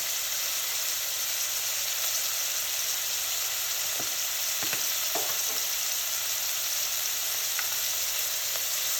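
Cumin seeds sizzle and fry in hot oil in a soup pot, a steady dense crackling hiss with a few sharper pops and stirring scrapes, close and continuous without talk.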